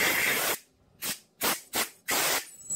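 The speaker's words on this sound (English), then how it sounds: "Right, time for an airline." Compressed air line blowing out a Briggs & Stratton carburettor, one long hissing blast followed by four short sharp bursts, close and loud with no talk.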